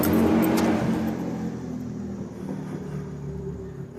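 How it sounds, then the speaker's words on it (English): A loud truck engine drones from a distance in the woods, a steady low rumble that swells at the start and then holds at an even level for several seconds. "I'm out in the middle of the woods and I can hear that loud ass truck."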